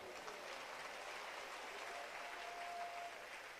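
A church congregation applauding, a dense, steady roar of clapping from many hands that holds evenly for the whole stretch, with no voices standing out.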